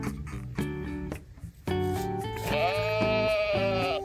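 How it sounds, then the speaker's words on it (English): A sheep bleats in a drawn-out, wavering call near the end, clear and fairly close over a bed of music, with no talking. "Sheep, tupa, tupa, tupa."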